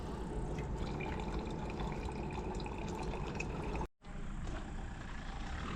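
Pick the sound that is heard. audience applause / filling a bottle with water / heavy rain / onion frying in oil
filling a bottle with water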